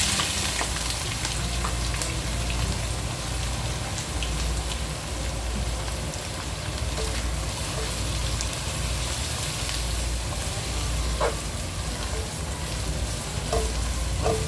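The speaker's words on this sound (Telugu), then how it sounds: "ఇప్పుడు ఉల్లిపాయలు వేస్తున్నాను." Onions sizzle and fry steadily in hot oil in a pan for a Telangana-style mutton curry, a continuous dense crackle with occasional sharper pops, close and alone.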